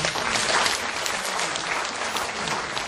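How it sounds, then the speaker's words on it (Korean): An audience applauds to welcome a professor to the stage for a talk on healthy eating, with a sustained wash of many hands clapping evenly at moderate loudness. "박민선 교수님을 따뜻한 박수로 환영해 주시기 바랍니다"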